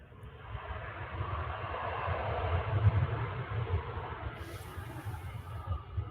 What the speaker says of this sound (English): Ryanair just landed from Belfast, making quite a loud appearance.